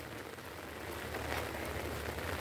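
Rain falling steadily on a home garden where parsley grows, a dense, even hiss of drops close by with no voices.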